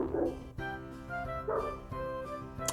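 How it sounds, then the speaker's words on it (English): Dogs in a home bark and yip faintly in the background, a few short bursts amid a sustained tonal hum that dominates the scene. "I'm very sorry if you can hear my dogs barking."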